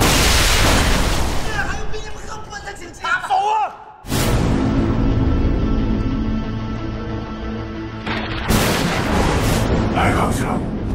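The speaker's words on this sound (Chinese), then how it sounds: "炸弹马上就炸！" A bomb goes off in an action film, with heavy booming blasts and crackling bursts that break off sharply, followed by a long roaring, rumbling wash and then another strong surge.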